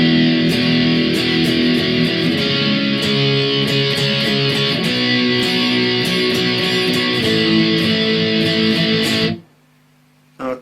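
A distorted electric guitar plays verse B of a song. The chugging pop-punk rhythm is loud and dense with steady strummed chords, then stops abruptly near the end.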